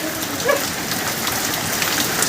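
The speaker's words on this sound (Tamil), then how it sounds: "அதான் சரியான மழை, பயங்கரமாக மழை பெஞ்சிட்டு இருக்கா." Heavy rain pouring down steadily during a Chennai storm, a dense continuous hiss of drops hitting surfaces, loud and even throughout with no voices.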